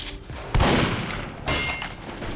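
Weapon fire from Team Fortress 2 as targets are shot, with a sharp burst at about half a second and another at one and a half seconds over a steady, noisy game background.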